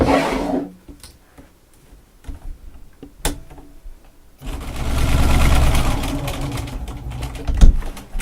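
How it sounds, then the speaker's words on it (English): A sewing machine stitches down the sleeve of an 18-inch witch doll, with some quiet clicks and fabric handling before a steady, fast mechanical whirring hum of stitching runs close for several seconds. "I'm just going to sew on this sleeve and go all the way down."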